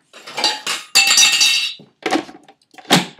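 A spoon scrapes and clinks through crumbly gluten-free cake mix in a bowl, in four or five short, fairly loud bursts separated by brief pauses.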